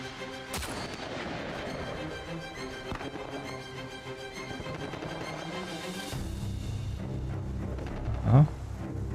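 Gunfire in the video game Uncharted 4 comes as several sharp booming shots over a steady game background, with a louder thump near the end.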